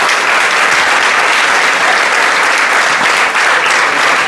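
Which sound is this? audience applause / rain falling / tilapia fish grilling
audience applause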